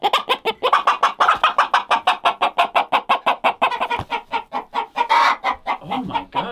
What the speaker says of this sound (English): That's a crazy chicken.